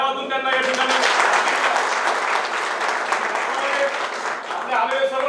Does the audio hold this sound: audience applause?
yes